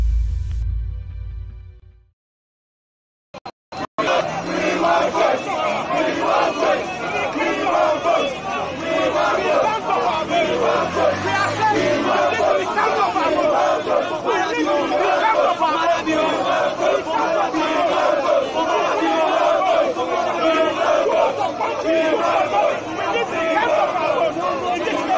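A large crowd at a Sierra Leone run-off election, a dense continuous roar of chanting and shouting voices that stays loud and close for over twenty seconds after a brief quiet gap.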